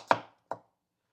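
A knife chops through a cucumber in two crisp, close strokes, the first louder than the second, with silence around them.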